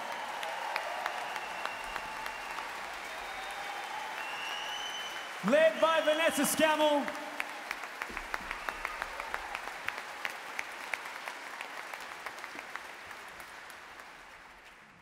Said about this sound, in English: Keep that applause going for the magnificent Sydney Symphony Orchestra.